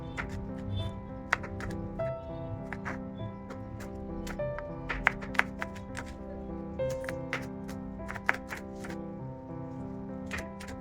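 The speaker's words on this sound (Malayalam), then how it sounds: "ഈ വെളുത്തുള്ളിയും അതേപോലെ ചെറിയ ഉള്ളിയും ഇതുപോലെ ചെറുതായിട്ട് അരിഞ്ഞെടുക്കാം." Garlic and shallots being finely chopped with a knife for a Kerala spinach (palak) thoran: quick, irregular sharp taps of the blade on a board, fairly faint over a steady tonal background.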